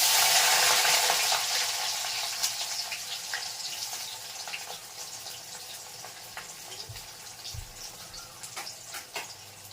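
Onions hit hot oil in a pan for chowmein, letting out a loud, bright sizzle that slowly eases into a steady crackling fry with a few small pops.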